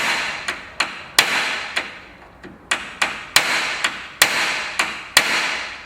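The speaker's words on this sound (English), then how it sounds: "use a punch, or we at the shop have this nice little ball peen hammer" A ball peen hammer drives a pin into a Vespa P125 selector box in a series of sharp metallic taps at an uneven rhythm, close and fairly loud, with no talking.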